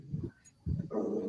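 A dog growls low and then lets out a couple of gruff barks close by, two separate bursts with a brief pause between them and a whiny edge at the end.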